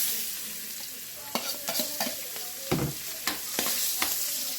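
Onion and garlic sauté in hot oil in a pan, reused frying oil, with a steady sizzle throughout and sharp scraping stirs of a utensil breaking in every half second or so.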